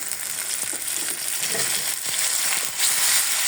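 Chopped onion, cumin paste and garlic paste frying in a pan, giving a steady close hiss and sizzle with occasional scraping stir strokes, alone without talk.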